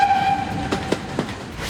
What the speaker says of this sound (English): Did you hear the sound from the train whistle?